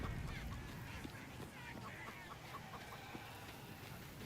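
A chicken clucks in Baldur's Gate 3, a run of short, faint clucks and squawks over a low game soundscape, with no talk.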